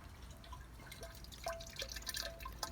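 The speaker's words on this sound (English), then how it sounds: "this is the free run juice from the Pinot Gris. Coming through the basket press." Free run Pinot Gris grape juice drips through a basket press, with soft intermittent drops and trickles heard up close over a low background rumble.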